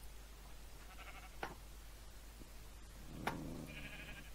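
A sheep bleats a couple of times in Minecraft, the short cries coming faintly over a low background hum with a few soft clicks between them.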